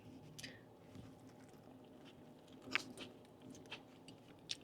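Close, quiet chewing of a thick food-truck burger with grilled onions, with soft wet squishes and a few sharp crunchy bites spaced over a few seconds, no talking.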